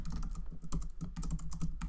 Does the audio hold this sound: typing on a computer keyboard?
yes